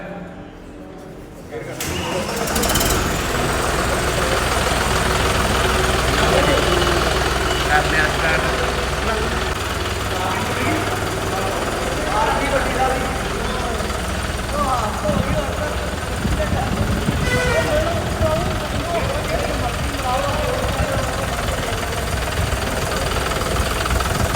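A John Deere tractor engine cranks and catches, then settles into a steady, loud, rumbling idle that runs throughout, with voices talking over it.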